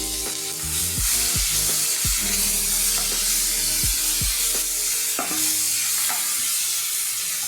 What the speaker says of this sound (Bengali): এই 2টা তেজপাতা ফোড়ন দিয়ে দিলাম, আর দিয়ে দিব পেঁয়াজ আর আদা বাটা